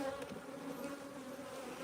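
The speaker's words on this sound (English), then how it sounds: "You can tell when they're calm just by the buzz." Honeybees at a winter hive hum in a low, steady drone, close and continuous without pauses, with no voices present.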